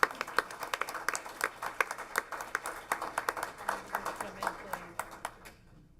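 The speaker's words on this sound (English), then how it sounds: "If you'd like to give him a round of applause." Scattered audience clapping at a school board meeting, with distinct separate claps at an uneven rhythm that thin out and stop near the end.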